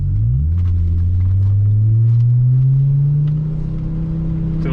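An Audi UrS6 car rolls off in first gear, its engine note rising and settling into a steady, loud low drone with a deep underlying rumble, close and continuous without any voices.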